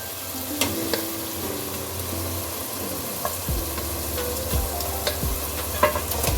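Chicken pieces go into a pan of sizzling yogurt masala, a strong continuous frying hiss up close with scattered clacks and scrapes of a spoon stirring through it.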